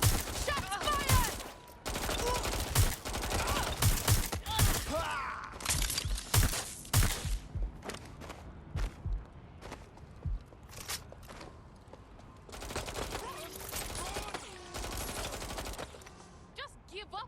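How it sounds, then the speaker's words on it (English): Gunfire from the video game Watch Dogs: Legion, with repeated bursts and single shots crackling through a chaotic firefight, punctuated by footsteps and shouted voices throughout. "Shots fired!"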